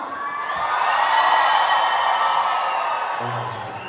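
A concert crowd at a show in San Francisco screams together on cue, producing a loud, sustained roar of high-pitched voices that swells and holds for several seconds before easing slightly at the end.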